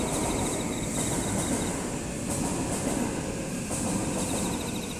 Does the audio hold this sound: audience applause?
no